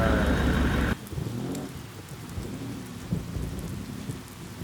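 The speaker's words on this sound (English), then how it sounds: "it is absolutely pouring with rain" Heavy rain pours down steadily at a racing circuit, a loud dense roar at first that drops to a softer continuous downpour with scattered drops and rumbles, no voices.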